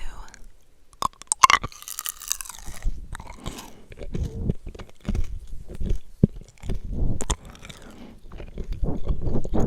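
Blue raspberry bubble gum being chewed close up: wet, sticky smacking and crunchy clicks in an uneven rhythm, mixed with soft whispered talk.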